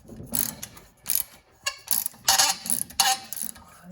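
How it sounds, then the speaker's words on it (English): A ratchet loosening seized exhaust manifold nuts on a 1989 Kawasaki ZX7 being restored, in several bursts of rapid close clicking separated by short pauses, no talk. "So you can get the last of these exhaust manifold nuts off here, the studs"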